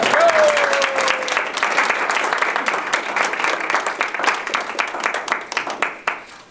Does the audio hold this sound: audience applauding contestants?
yes